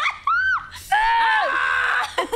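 A person's voice imitates a fire truck siren with rising and falling wails, a short whoop followed by a longer sustained howl that bends downward, loud and close.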